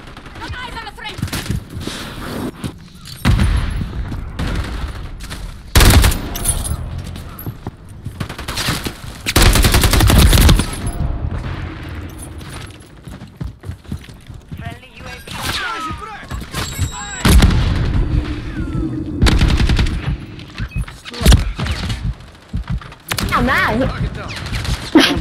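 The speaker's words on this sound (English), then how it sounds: "Big shotgun's brutal, man." A shotgun and rapid automatic gunfire in the first-person shooter Modern Warfare III, in a Kill Confirmed match on the Rust map, come as loud bursts, repeated booms and clustered volleys, with someone talking between them.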